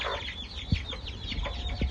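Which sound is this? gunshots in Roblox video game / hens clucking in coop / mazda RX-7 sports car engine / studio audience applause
hens clucking in coop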